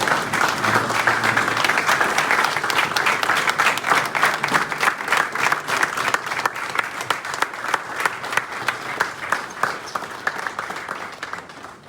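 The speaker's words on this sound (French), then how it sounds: "j'ai l'honneur de vous inviter à faire une standing ovation au président Paul Biya" A hall gives a standing ovation to President Paul Biya: loud, sustained applause from many hands, steady and dense throughout with sharper claps rising near the end.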